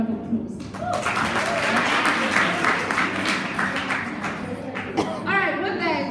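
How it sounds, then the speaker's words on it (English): A crowd at an introductory talk breaks into applause that holds for several seconds, with scattered whoops and voices mixed in through the dense clapping. "Let's get a round of applause."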